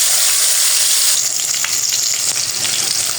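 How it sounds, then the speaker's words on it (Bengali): Stinging catfish (shing fish) frying in hot oil in a pan, a loud, dense, continuous sizzle and crackle heard up close, with a few soft stirring knocks partway through and no talk. "মাছ ভাজা হয়ে গেছে"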